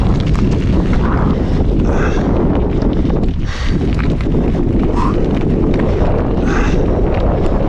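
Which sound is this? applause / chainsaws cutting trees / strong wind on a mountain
strong wind on a mountain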